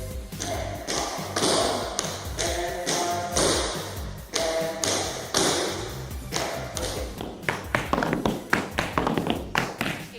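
Rapid tap dance wing steps, crisp metallic taps in quick rhythmic bursts over background music, getting sharper and more clustered toward the end.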